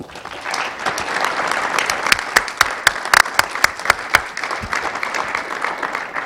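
Audience applause at a French prize ceremony honouring a laureate, a steady wash of many hands clapping that thickens midway with sharper, louder individual claps standing out before easing back to a softer patter.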